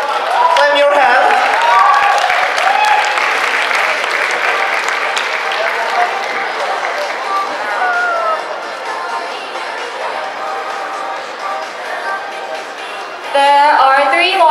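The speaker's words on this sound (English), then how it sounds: "Clap your hands." Sustained clapping and cheering from a large crowd at a university culture concert fill the hall, loud and dense throughout, with shouts and voices mixed in and a brief swell of noise near the end.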